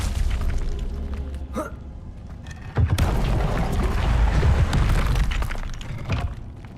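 A Confringo blasting spell from Hogwarts Legacy erupts into a loud, broad explosion, its rumbling roar and scattered crackle lingering for several seconds after a short magical whoosh.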